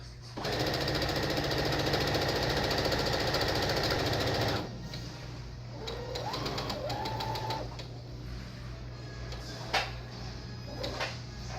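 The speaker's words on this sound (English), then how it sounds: "I'm sewing right now, I'm sewing correct right sides together." A sewing machine stitches two pieces of fabric with right sides together, running in a loud, steady rapid whir for about four seconds, then stopping; quieter handling clicks and fabric rustling follow.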